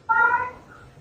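A single drawn-out meow, consistent with a female cat, starts sharply, holds loud and close for a moment, then trails off more softly.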